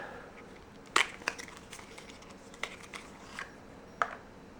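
Packaging for an eye primer being opened: a few sharp crinkly snaps and plastic clicks spaced out over several seconds, close and quiet, with no talking.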